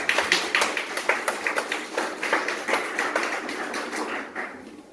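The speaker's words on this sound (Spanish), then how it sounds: "Denle un aplauso." A small group claps in a leadership training class, quick uneven handclaps rising and fading over about five seconds, close and fairly loud, with no talk over them.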